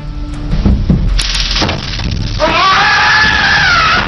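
A man screams in pain on a courtroom floor after being tasered, with a rising, sustained shriek after a few sharp cracks and clatter.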